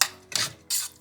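Spoon stirring lentils and sausages in a pot, Moroccan-style, with three short scraping, rubbing strokes close by, no talking.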